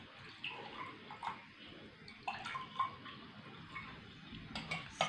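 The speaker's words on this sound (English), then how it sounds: "And I'll keep two glasses and I'm going to pour water." Water trickles and splashes into a container with small clinks of glass, fairly close and steady, with no talking.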